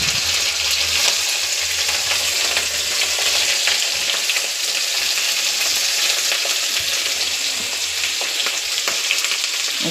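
Fish pieces fry in very hot oil with a loud, continuous crackling sizzle that stays steady throughout, with faint spatters popping now and then.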